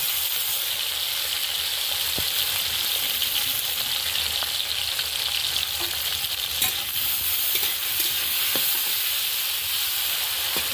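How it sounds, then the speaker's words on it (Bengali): Cauliflower frying in a wok, a loud continuous sizzle and crackle that fills the scene, with a few faint stirring knocks and no talking. "দিয়ে এবার ফুলকপিটাকে ভালো করে একটু ভেজে নেব।"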